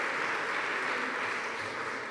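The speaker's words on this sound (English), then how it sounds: "Big applause to you." Steady, dense clapping from a crowd, loud and continuous for a couple of seconds with no pauses.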